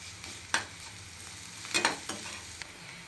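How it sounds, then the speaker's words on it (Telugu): Onions and ginger garlic paste fry in a pan under a low, steady sizzle, broken by a few sharper scraping bursts as the mixture is stirred. "ఒక స్పూన్ అల్లం వెల్లుల్లి పేస్ట్ అయితే వేసుకొని వేయించుకుందాం పచ్చి వాసన పోయేదాకా వేయించుకుందాం"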